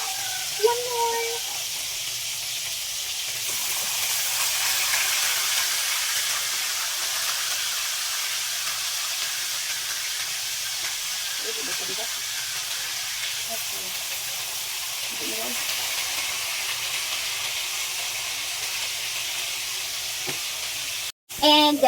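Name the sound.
fish frying in oil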